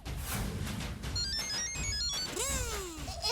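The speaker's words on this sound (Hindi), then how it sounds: "अभी ये रिंग सुने तो अच्छा है" A mobile phone ringtone plays loudly and close, its electronic melody of bright repeating tones running throughout over a background of household noise, ending with sweeping rising and falling chimes.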